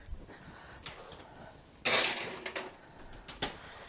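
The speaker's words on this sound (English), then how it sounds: "we're just going to pop it in the oven for about 15-20 minutes" A poppy seed braid on a pan is slid into an oven, with light metallic clatter and taps, one louder clanking scrape of the pan on the rack, then a few sharp knocks, close and otherwise quiet.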